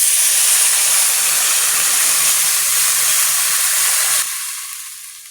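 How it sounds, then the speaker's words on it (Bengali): Water pours into a hot cooking pan while fish curry is being prepared, making a loud, continuous rushing hiss that cuts off sharply near the end, leaving a fainter sizzle, with no speech. "জল দেবো।"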